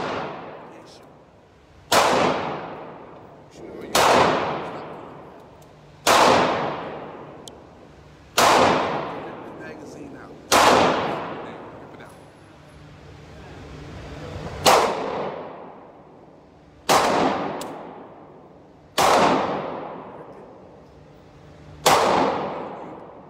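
Pistol shots ring out during firearm training, about ten sharp, loud reports spaced roughly two seconds apart. Each one leaves a short, decaying echo.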